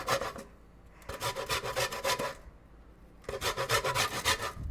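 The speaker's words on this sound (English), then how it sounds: "that lemon zest is falling off and it's looking good in there" A lemon is scraped for zest without a zester, giving dry rasping strokes in two quick rhythmic bursts, a pause, then another burst, close and fairly quiet with no voices.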